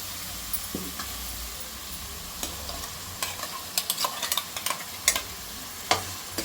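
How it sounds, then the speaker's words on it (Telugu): Tomato puree frying in a pan as the base of a rohu fish curry, a low background sizzle with sparse spoon clicks and stirring scrapes that grow busier midway. "ఇప్పుడు ఇందులో టమాటా ప్యూరీ వేసుకుందాం"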